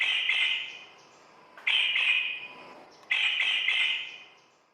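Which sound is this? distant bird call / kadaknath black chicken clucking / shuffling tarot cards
distant bird call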